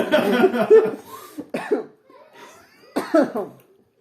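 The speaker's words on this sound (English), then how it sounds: "I'm coming down with a cough." A few harsh, close coughs come in short bursts separated by brief pauses.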